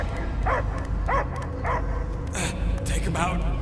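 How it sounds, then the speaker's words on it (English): A dog barking and yipping in the video game Marvel's Guardians of the Galaxy, repeated close bursts with whimpering tones, under a low rumbling game soundtrack. "I hear only barking."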